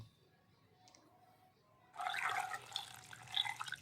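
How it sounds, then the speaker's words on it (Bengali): Potatoes being washed under running water for Kashmiri aloo dum, starting quietly and then a sudden steady rush of tap water splashing in a sink for the last two seconds. "প্রথমে ভালো করে আলুটাকে ধুয়ে নিলাম"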